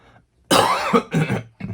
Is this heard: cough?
yes